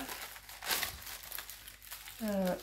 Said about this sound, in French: Alors là, c'est des stickers Harry Potter.